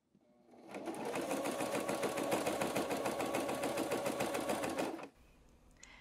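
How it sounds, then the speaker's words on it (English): A sewing machine top-stitches a corset bust panel in fabric, a brisk close rattling run of needle strokes that starts up, holds steady for several seconds and stops abruptly. "now I'm finally sewing the bust panel into place with a top stitch to create a boning channel against the bust."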